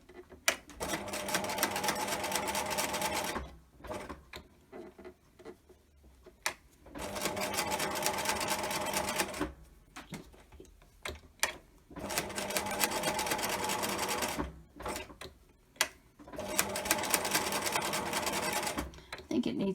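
Sewing machine running a straight stitch through fabric paper for card making, in four steady bursts of several seconds each with short pauses between, a voice talking quietly in the gaps.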